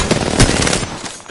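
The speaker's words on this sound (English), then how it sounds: "I am taking fire, friends." Dense bursts of automatic gunfire from an online shooter game on PS4, loud and close, rattling almost continuously with brief gaps between volleys.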